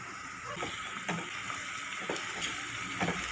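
Onions with green chilli paste frying in a pan, a steady soft sizzle with faint stirring scrapes at intervals, no voices.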